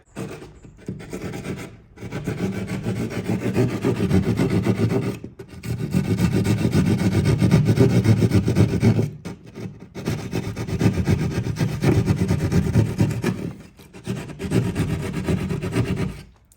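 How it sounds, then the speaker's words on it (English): A drywall saw cuts an opening in drywall for a Tesla charger install, rasping back and forth in several bursts of loud, close sawing separated by short pauses, with no talking. "we'll open it up with a drywall saw"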